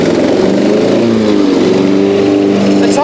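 A Yard King riding mower engine races and over-revs, a loud, buzzy mid-pitched drone whose pitch surges and wavers over a few seconds.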